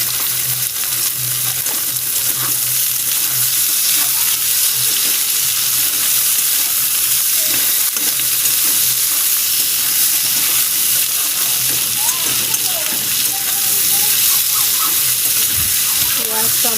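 Onion, tomato, potato and green chilli fry in oil in a pan, giving a steady, close, loud sizzle that hisses without a break, with faint stirring scrapes now and then.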